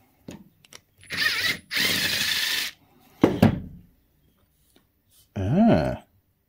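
A power tool spins a socket while a Warn winch is stripped down for inspection, in several loud, close bursts of whirring with quiet gaps and faint handling clicks between them.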